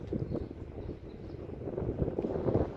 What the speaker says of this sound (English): I ain't gonna keep fighting this wind today.